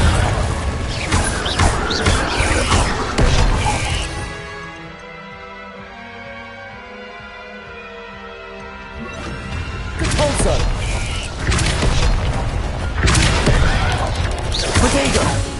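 Crashing, smashing blasts from a fiery Confringo spell in the video game Hogwarts Legacy, loud bursts at the start and again after a quieter middle stretch, with a voice talking over the game.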